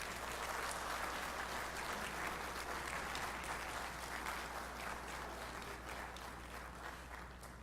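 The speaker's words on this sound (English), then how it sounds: "I'd like to ask you to extend your gratitude by giving them your own lusty round of applause" A graduation ceremony audience gives a sustained round of applause, dense steady clapping from a large crowd that carries on for several seconds and tapers slightly toward the end.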